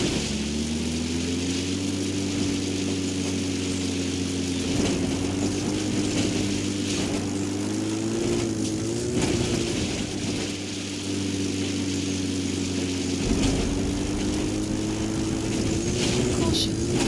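Support helicopter from the video game Metal Gear Solid 5: The Phantom Pain flying with a steady, loud rotor and engine drone throughout, with a voice speaking over it at times.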